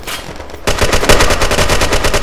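Rapid automatic gunfire in the online shooter Red Crucible: Firestorm, a burst of quick repeated shots that starts after a brief quieter moment and stays loud and continuous to the end.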